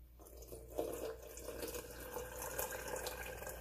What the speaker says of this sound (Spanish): Y luego le agregas el agua, que aproximadamente son 2 tazas.